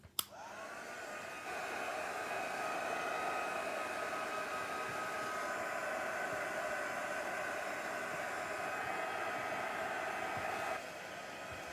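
A hair dryer blows steadily to dry a rubber-stamping craft project, switching on with a click and running as a constant, fairly quiet whoosh for about ten seconds before cutting off.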